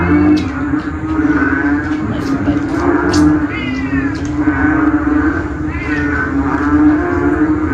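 Several drawn-out cat meows rise and fall over a steady low hum, close and fairly loud, repeating every second or two.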